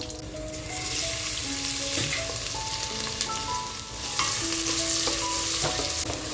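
Chopped onion frying in rendered mutton fat for a village-style mutton curry, a steady loud sizzle with scraping stir strokes and light clinks throughout, no talking.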